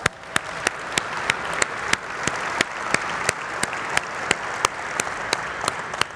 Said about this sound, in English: I think Tim and Kelsey deserve another round of applause.